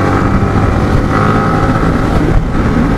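A Yamaha R15 V3 motorcycle cruises on a road in Kolkata in the rain, its engine drone loud and close, mixed with heavy wind buffeting on the helmet microphone.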